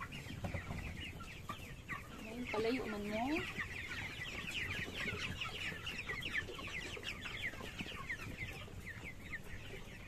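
Broiler chickens on a grower farm cluck and murmur as a dense flock, a continuous layered chatter with a few louder calls rising above it, and a person speaks briefly early on.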